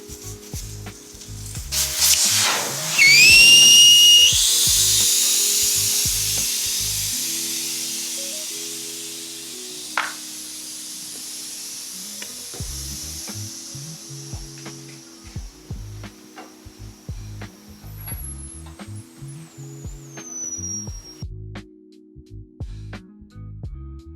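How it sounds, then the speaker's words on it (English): A loud burst of hissing air comes first, and then an air compressor chugs in a steady, rhythmic low pulse as it fills up during tire bead work in a garage, with occasional clanks and no speech. "just wait for the compressor to fill up a little bit more before we pop the bead on here"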